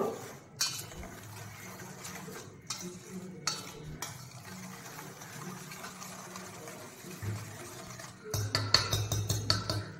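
Plum cake batter being mixed in a bowl, with soft irregular stirring and scraping close by, then quicker, louder clinking strokes near the end, with no talk.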